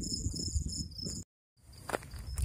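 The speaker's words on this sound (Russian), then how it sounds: "Слышите, как сверчки поют." Crickets chirp steadily in a city park in Arad, a dense high continuous trill that cuts out briefly and resumes, with faint background rustle.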